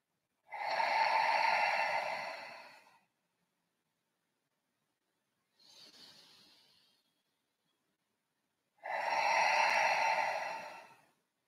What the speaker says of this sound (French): Et vous inspirez, relâchez.